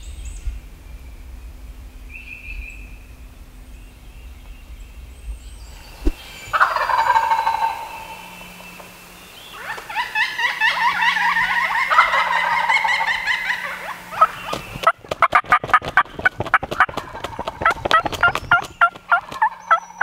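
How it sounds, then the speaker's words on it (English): Wild turkeys gobble repeatedly at a distance around a lake in Tennessee, their rattling calls rising and falling outdoors with a faint steady hum underneath. "a couple other birds gobbling around the lake"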